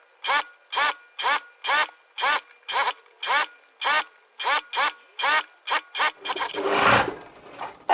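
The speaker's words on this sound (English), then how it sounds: "I'm just going to sew all the way around on my straight stitch" A domestic sewing machine runs a straight stitch around the hem of a skirt in about a dozen short, evenly spaced bursts, then finishes with a longer continuous run and a louder rustle of fabric.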